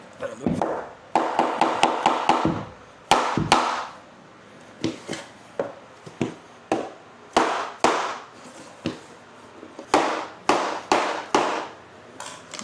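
Rapid bursts of sharp wooden taps from a hammer knocking small flooring cutoff pieces into place during a bedroom remodel, coming in quick clusters with short pauses between, close by.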